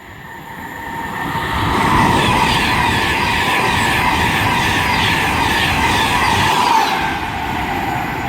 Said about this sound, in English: down there we have a Virgin Pendolino ready to zoom past